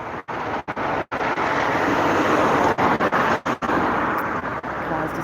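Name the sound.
road traffic passing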